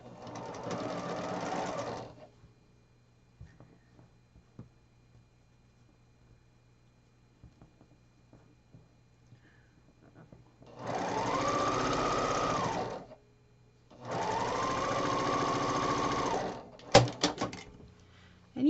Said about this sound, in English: And then I'm going to sew a 1/4 inch seam allowance.